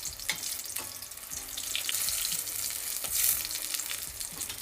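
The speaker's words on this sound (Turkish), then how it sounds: "Ne kadar kızarttığıma dikkat edin." Köfte meatballs fry in oil in a pan with a steady crackling sizzle, with occasional scrapes and taps of turning, close and continuous, with no talking.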